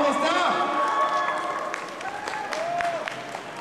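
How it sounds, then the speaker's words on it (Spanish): Audience applause and cheering at a televised event, a burst of clapping with crowd noise that fades slightly, mixed with speech and voices over it. "Ese aplauso, ¿dónde está?"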